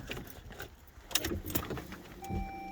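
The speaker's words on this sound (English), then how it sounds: "you'll just put the key in" A car key is put into the ignition of a Saab 9-3 with a quiet metallic jangle and clicks. It sounds close and faint, and a soft tone follows near the end.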